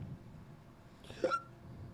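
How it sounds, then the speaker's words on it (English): A single brief hiccup from a person during a casual podcast conversation, a short sharp vocal catch standing out against a quiet room. "That was a hiccup."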